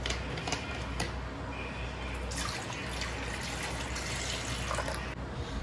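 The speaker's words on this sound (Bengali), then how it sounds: "এখন এরকম একটা পাত্র লাগবে, পাত্রর নিচে আমি জল দেব।" Water is poured into the bottom of a cooking pot, a close, gentle trickle and splash under steady background noise, with a few sharp clinks and taps.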